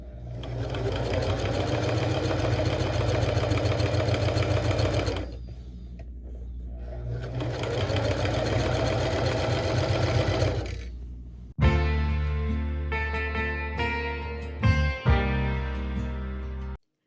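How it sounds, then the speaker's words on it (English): A sewing machine runs in two sustained stretches of steady, fast whirring as it stitches satin to a seam allowance, pausing briefly between, then shifts to sharper, irregular mechanical clicks and thumps near the end, loud and close. "we're going to sew this to the seam allowance"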